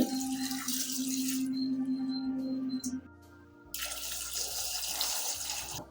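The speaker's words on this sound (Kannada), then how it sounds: "ಇವಾಗ ಇದಕ್ಕೆ ಜಾಸ್ತಿ ನೀರು ಹಾಕ್ಕೊಳ್ತಾ ಇದ್ದೀನಿ." Water pours steadily into a pot in two bursts, separated by a short pause, fairly close and with no talking.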